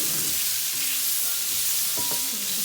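Steak frying in unsalted butter in a pan gives a continuous loud sizzle and hiss with occasional stirring clatter, close up and with no talking.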